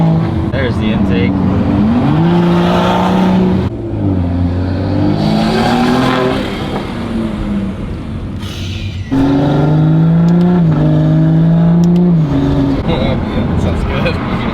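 A BMW 340i with a B58 engine and aftermarket intake revs loudly up and down, its turbo whooshing and engine note rising and falling in repeated pulls, with a voice briefly audible over it.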